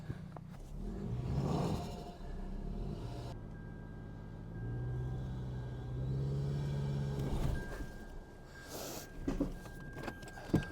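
A 2025 Toyota Tacoma Trailhunter engine labors off-road in 4 low, a steady low rumble and drone that rises in loudness midway, with a few sharp knocks near the end and no talk.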